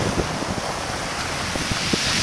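Ocean waves surge and wash up on a windy shore in a steady, loud roar of surf, with gusts of wind buffeting the microphone and no talking.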